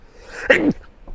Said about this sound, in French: vais éternuer.